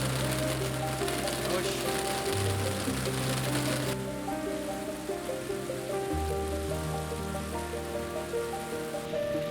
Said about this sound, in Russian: В какой-то момент небо затянуло и налетел мощный, но непродолжительный ливень.